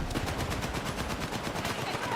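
Rapid machine gun fire in a video game, a dense burst of close, loud shots in quick rhythm, partly overlapped by a voice.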